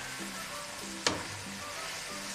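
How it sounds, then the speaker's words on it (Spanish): Onion caramelizing in a frying pan for a portobello mushroom burger, a steady close sizzle and frying hiss with one sharp clink of a utensil partway through. "Dejamos un poquito más para que quede caramelada"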